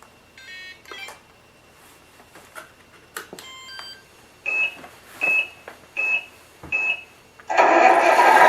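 Tamiya MFC-01 sound unit on an RC truck runs its startup sequence: a series of electronic beeps and chirps, four evenly spaced tones, then a simulated engine bursting into a loud, steady running rumble.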